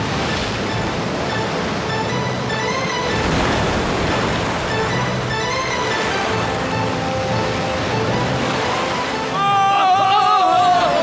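Dramatized raging sea as waters engulf the Egyptian army and Pharaoh, a dense continuous roar of surging waves and rushing water with tonal cries and music swelling near the end.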